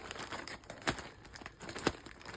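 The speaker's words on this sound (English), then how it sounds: "let's go ahead and just get this big bag open" A large plastic bag being torn and pulled open by hand, close and fairly quiet, with steady crinkling and two sharper ripping bursts along the way.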